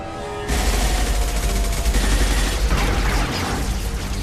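Gunfire in the video game Mass Effect 2 erupts suddenly after a brief quiet lead-in, then roars on as a loud, dense, continuous barrage of overlapping shots and booms.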